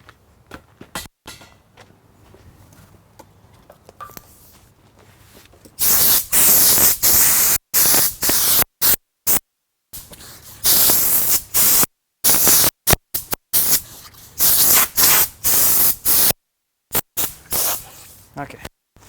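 Air compressor nozzle blowing air in a woodworking shop while slabbing silver maple, bursting in loud, hissing blasts that start and stop repeatedly after a quiet opening.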